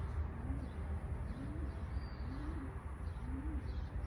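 Released pigeons give a slow run of four gentle, evenly spaced coos, faint beneath a constant low outdoor hum.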